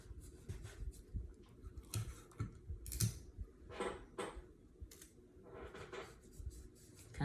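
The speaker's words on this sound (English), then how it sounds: "So I'm gonna start taping here." Tape being laid onto a 20 oz skinny tumbler and pressed down, soft rubbing, crinkling and scratchy ticks repeating at close range, fairly quiet.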